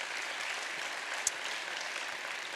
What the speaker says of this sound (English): Please, a huge round of applause for them for really making this possible.